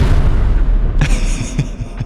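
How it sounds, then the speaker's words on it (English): An explosion sound effect drops in after about a second: one loud, broad boom that cuts over a dense, steady low rumble and fades with a few softer thumps behind it. "Explosion."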